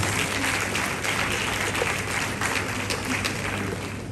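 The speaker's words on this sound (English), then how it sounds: "So please, round of applause to all the contestants." An audience applauds the contestants at a national cybersecurity challenge awards ceremony, a steady, moderately loud patter of many hands clapping throughout, with no one speaking over it.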